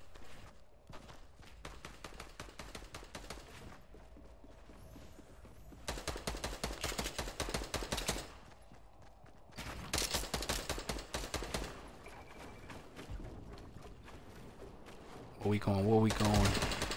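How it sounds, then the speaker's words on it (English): Fortnite gunfire: long rapid bursts of shots crackle in stretches, with quieter footstep-like patter between the volleys and a final dense burst near the end. "Got some shooting. Somebody's shooting."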